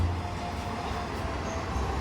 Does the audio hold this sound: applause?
no